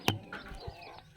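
A native hen among backyard chickens gives a short cluck with a sharp initial note and soft follow-up sounds, close and brief.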